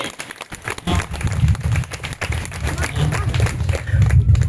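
A church congregation at a Father's Day celebration at Minor Basilica Ulhatu Church in Ranchi claps loudly, mixed with crowd noise and voices throughout.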